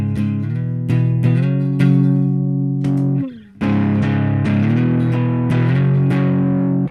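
Electric guitar run through a ProCo Rat distortion pedal set for mild overdrive, playing loud, sustained gritty chords with repeated strums, a brief dip near the middle, then full-bodied chords again, with no voices.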